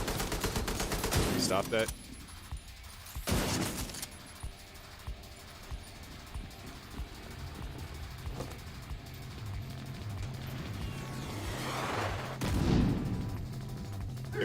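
Rocket launcher fire and explosions in the film Resident Evil: Welcome to Raccoon City: loud, booming blasts and rattling gunfire recur through the scene over a dramatic musical score, with a brief line of dialogue in between.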